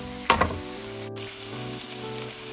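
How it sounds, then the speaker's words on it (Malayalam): Sliced onions with salt sauté in a pan for a Kerala squid masala, a constant close sizzle opened by a couple of brief stirring knocks. "ഇനി ഇതെല്ലാം കൂടെ ഒന്ന് വഴറ്റിയെടുക്കണം"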